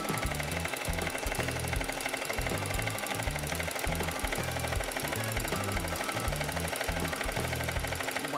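Sewing machine stitching steadily in a home sewing session, a loud continuous mechanical chatter with rapid needle rhythm that starts and stops in short bursts throughout.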